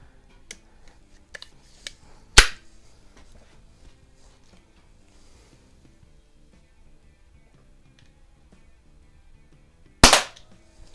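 Gamo AF-10 .177 single-stroke pneumatic pellet pistol firing two sharp, loud shots several seconds apart, with faint clicks and handling noise between them and no speech.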